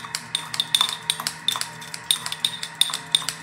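Scissors snipping mint leaves in a kitchen, a quick irregular series of crisp metallic clicks, close and clear, with no talking.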